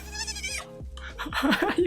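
A sheep-like creature in the video game Palworld gives a few short bleats, loud and close against faint game ambience, with no one talking.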